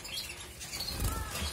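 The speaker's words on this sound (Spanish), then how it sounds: "Fijaros, los pájaros dan tralla." Small aviary birds chirping with bursts of wing flapping, busy but moderately faint in a room-like space, with a louder flutter near the end.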